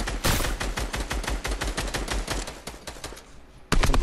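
Rapid bursts of automatic gunfire in a squad-mode shooter video game, dense repeated shots over about three and a half seconds, tapering slightly before a loud final burst, no talking.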